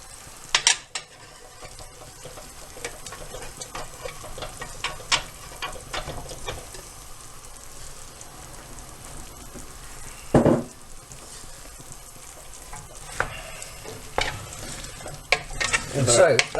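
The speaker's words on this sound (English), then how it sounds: "We'll just give that a stir, I guess" Spoon stirring chopped mango and other fruit for chutney in a hot pan, a continuous soft sizzle with scraping strokes and occasional sharper knocks of utensil against the pan, close and steady.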